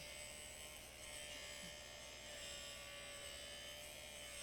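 A Pro-Flexshaft rotary tool mounted on a JoolTool grinds down a small piece, producing a continuous high whining buzz with a gritty edge that stays steady and loud throughout, with no talking.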